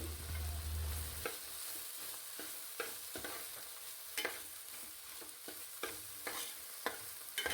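A spoon stirs a bitter gourd stir-fry with freshly grated coconut in a pan: soft scraping strokes and taps at an irregular rhythm over a faint sizzle, close and fairly quiet, no voices.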